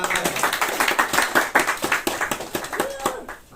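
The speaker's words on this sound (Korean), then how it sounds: "박수" A church congregation claps during a Sunday service, with sharp, irregular hand claps close by, mixed with voices and a brief sung or spoken tone near the end.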